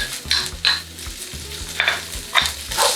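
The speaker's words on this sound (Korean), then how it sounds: "여기에 양파 먼저 넣고 볶아줄 거예요." Onion and Spam stir-frying in a spoonful of oil in a hot pan, a steady sizzle with repeated scraping stirs of a spatula at a regular rhythm, close and fairly loud with no talking.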